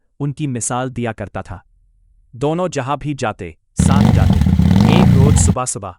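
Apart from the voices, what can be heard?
motorcycle arriving, sound effect in horror story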